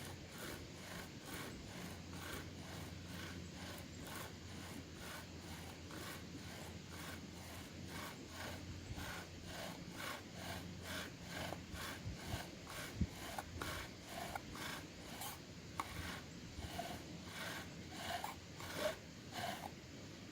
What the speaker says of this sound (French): il y a de la friction autant en bas sur la planche qu'ici dans la poignée